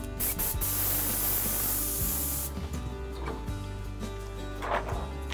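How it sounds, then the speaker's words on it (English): Paint sprayed from an airbrush cup onto an animation cel masked with frisket, a loud steady hiss for a few seconds that cuts off, followed by short softer bursts. "and we start spraying"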